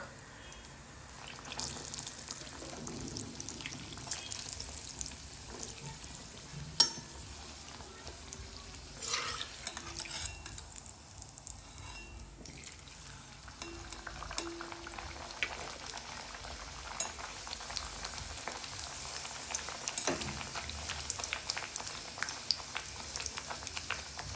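Puris fry in a pan of hot oil, a low, steady bubbling sizzle that runs continuously with a few soft clicks and stirs.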